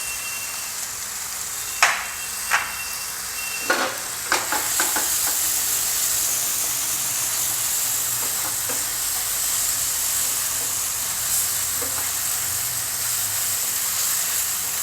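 Garam masala powder roasts in a pan with a steady, hissing sizzle, broken early on by a few sharp scraping stirs before settling into a continuous fry.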